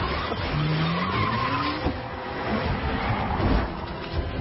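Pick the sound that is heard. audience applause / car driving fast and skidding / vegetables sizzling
car driving fast and skidding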